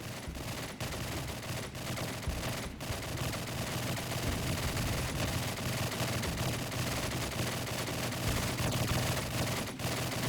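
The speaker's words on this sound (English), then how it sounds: "Sounds like someone's at the shooting range." Continuous rapid gunfire from a shooting range in Call of Duty 4, with overlapping automatic bursts and single shots filling the whole stretch at a steady, fairly distant level.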